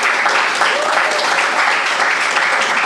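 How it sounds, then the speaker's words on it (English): A crowd at a panel talk on songwriting claps for its guests, a dense, steady, loud round of applause filling the room throughout. "I want to give a big round of applause to all our guests"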